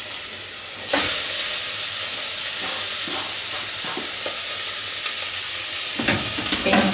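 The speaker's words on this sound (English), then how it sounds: "just beginning to turn a little bit yellow, sizzling quite nicely" Carrots and other vegetables sizzle steadily in a hot frying pan, a loud, continuous hiss with occasional stirring clatters and a fresh burst of frying near the end.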